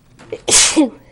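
A single sharp human sneeze, close and loud, with a brief inhaled lead-in followed by an explosive burst, heard at a town selectmen's meeting.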